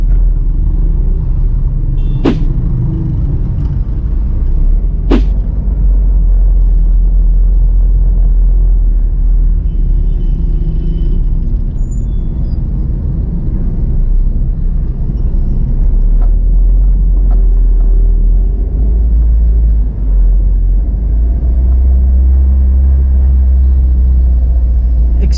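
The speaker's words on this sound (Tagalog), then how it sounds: "Expect na traffic gigaya dire karon orasa." Busy afternoon traffic on C.M. Recto Avenue in Cagayan de Oro, a constant low rumble of passing engines, with a couple of sharp clicks early on.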